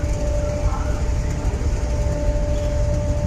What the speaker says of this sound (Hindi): और ये हमारी ट्रेन आ रही है प्लेस होने के लिए।